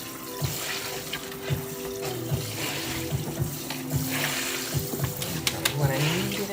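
Dyed tie-dye fabric is rinsed and kneaded under running water, with a steady faucet stream and soft splashing and squelching in the background.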